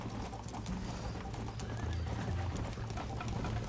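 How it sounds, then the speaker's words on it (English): Horse hooves clip-clop steadily at a gallop in the Red Dead Redemption video game, with occasional whinnies and neighs over a continuous mid-level game soundscape, loud and close throughout. "Esse cavalo é muito ruim, velho."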